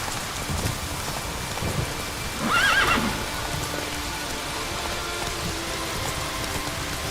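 Roach, the horse in The Witcher 3, lets out a short whinny partway through over steady rainfall. Faint hoof clops sound on wet ground, and no one speaks.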